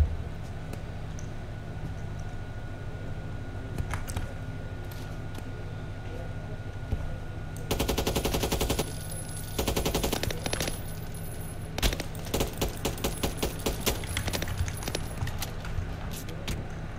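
Pistol shots in the video game Deadline come in quick bursts of sharp cracks in the second half, after a stretch of quieter game ambience with scattered clicks.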